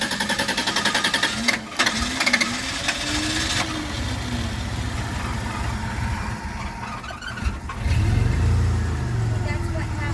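A 1993 Dodge Caravan engine runs with a rough, steady rattle and pulsing hum after a fuel pump and relay repair, then abruptly shuts off near the end as people talk.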